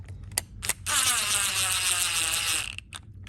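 An impact driver with a variable trigger whirs on the screws of a Craftsman M100 mower, a close, steady buzzing run of about two seconds, with short clicks before and after.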